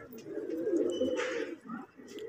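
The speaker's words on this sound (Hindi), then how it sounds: "कबूतर तमाम जो है वो बिल्कुल फ्रेश हो गए हैं और अपने पर सुखा रहे हैं।" Pigeons cooing on a rooftop, a steady murmur of soft, low coos from several birds nearby, with a few faint chirps and rustles over it.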